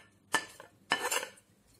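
Grated cucumber raita being stirred in a bowl, with two short bursts of spoon-on-dish clinking and scraping, close and fairly quiet, separated by a brief pause.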